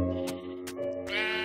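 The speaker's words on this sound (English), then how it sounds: "All these sheep right here together" A Minecraft sheep bleats several times in quick succession, clear and close, with short wavering calls and no voices over them.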